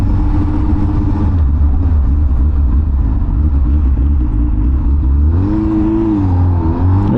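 A 2007 Honda Hornet 600 motorcycle accelerates hard from low speed, its engine note rising through the revs, dipping at a gear change and climbing again, loud and close with wind rush.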